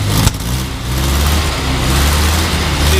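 A 1961 Morris Minor Series III quarter-ton pickup engine runs close by, rising and holding in a smooth rev with a steady low rumble and no talk over it.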